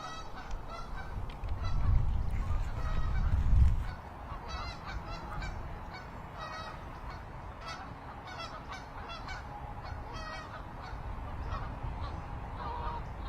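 Geese honk repeatedly at a disc golf tournament, a steady run of clear calls over outdoor ambience, with a low rumble early on and no speech.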